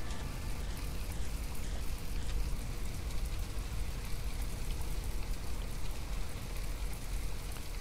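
Steady rain falls in the naval combat game From the Depths, a soft, even hiss of drops on surfaces that holds at moderate volume throughout, with no voices.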